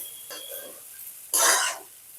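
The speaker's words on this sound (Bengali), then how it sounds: "আপনারা সব একসঙ্গে ভালো করে নাড়িয়ে নেব।" Sabudana pulao being stirred in a pan with fried nuts, cashews and raisins, giving a short scrape followed by a louder burst of sizzling and stirring, close and alone without talk.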